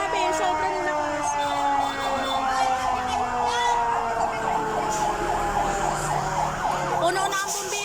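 Several fire truck sirens wail and overlap without a break, loud and close on a street crowded with fire engines at a large fire in Sta. Mesa, Manila, with traffic rumble and faint voices underneath.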